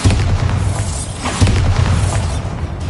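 A Bombarda blasting spell in a Harry Potter video game, a loud rumbling boom with crackling burst texture filling the whole moment, heavy and close.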